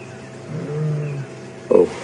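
Lion from the Nkuhuma pride vocalizing behind a safari vehicle at Djuma Game Reserve, a low moaning call followed by a short louder grunt, moderately near amid faint ambient background.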